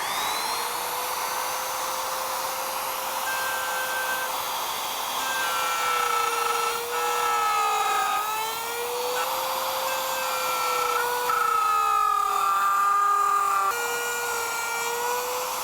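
Router cutting wood stock in passes while making a blind dovetail jig, a steady high-pitched motor whine whose pitch dips as the bit bites into the wood, close and continuous throughout.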